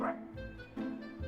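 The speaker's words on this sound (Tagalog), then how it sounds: "Dog." A dog barks and yips in quick high-pitched bursts close by, three short yaps in just over a second.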